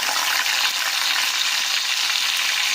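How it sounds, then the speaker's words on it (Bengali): Onion paste frying with spices in a hot pan, giving a dense continuous sizzle with faint stirring, close and steady throughout with no talking. "এই পেঁয়াজ বাটাটা দিয়ে এবার মশলাটাকে আমরা খুব ভালোভাবে ভাজা করছি"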